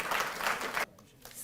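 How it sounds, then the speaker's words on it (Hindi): Audience applause at a Delhi government ceremony honouring Tokyo Olympics athletes, a dense burst of clapping that cuts off abruptly partway through, leaving a quiet hall with faint scattered sounds. "तालियां बजती रहें।"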